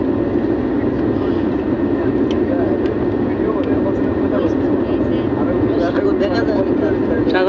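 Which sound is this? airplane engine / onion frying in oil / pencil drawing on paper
airplane engine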